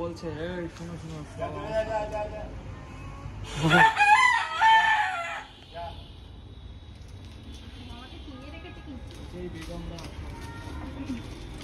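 A rooster crows loudly and close by, with chickens clucking around it, while people talk through much of the clip.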